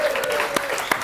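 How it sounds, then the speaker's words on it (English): A small studio audience on a radio show claps as Christmas lights are switched on, with a few distinct sharp claps over a steady background and a faint voice beneath. "Round of applause, please."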